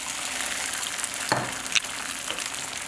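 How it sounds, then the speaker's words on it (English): Steady, crackling sizzle of food frying in a pan, with a couple of sharper pops and spits partway through; no voices. "Check out that sizzle."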